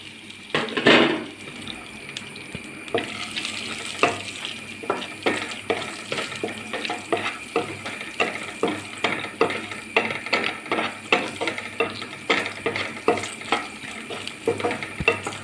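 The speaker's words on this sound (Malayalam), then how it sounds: "ഈ നട്ട്സ് ഇട്ടൊന്ന് വറുത്ത് കോരി ഇടുകയാണ്" Nuts crackling and sizzling as they fry in a hot pan with melted fat, with repeated rhythmic scraping of a spoon stirring them, close and fairly loud.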